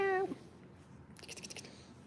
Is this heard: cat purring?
yes